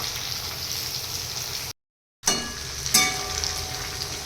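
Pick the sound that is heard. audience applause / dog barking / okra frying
okra frying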